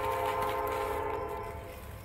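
A train passes on railroad tracks beside a trackside spot, with a steady, sustained horn-like tone over rumbling rail noise that gradually fades over about two seconds.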